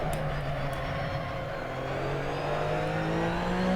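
An Audi Sport Quattro S1 race car on the Highlands track in a racing game, its engine revving steadily and climbing in pitch as it accelerates, loud and close, with other cars faintly nearby.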